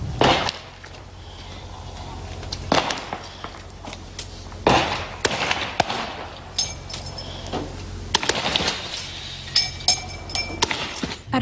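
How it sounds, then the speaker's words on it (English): Police firing non-lethal gas canisters into a home during a standoff, with sharp bangs and glass breaking and clinking at intervals, several loud impacts separated by quieter stretches over a low background hum. "You can hear the sound of shots as well as glass breaking as officers fired non-lethal gas into the"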